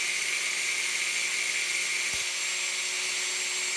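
An electric driver sinks wood screws into plywood, a steady high whine that runs without a break. It is loud and close, with a faint thump partway through and no speech.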